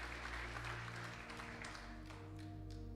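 A church congregation at a Sunday celebration service applauds, producing a dense, steady clapping that fills the room with no break, under a sustained musical backing.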